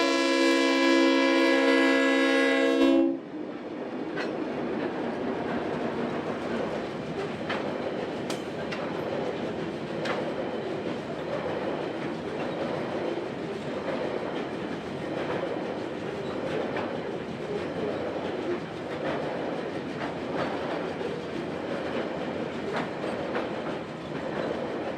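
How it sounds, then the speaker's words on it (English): TasRail coal train hauled by DQ and 2050 class diesel locomotives rumbles steadily past the old Evandale Railway Station site, a loud horn chord opening before a long continuous roll of wagons with faint clicks. "features a DQ and 2050 class hauling Tazrail's coal train through the site of the Evandale Railway Station"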